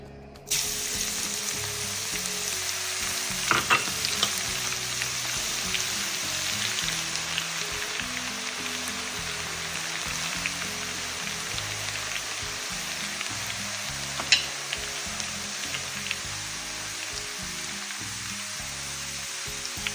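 Garlic sizzles steadily in hot frying oil, a close, continuous hiss with scattered small pops and crackles throughout.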